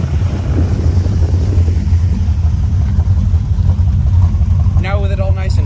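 Tuned truck engine with an aftermarket cam idling through its exhaust, a steady loud low rumble with uneven lope, buffeted by wind on the microphone and a vehicle passing near the end.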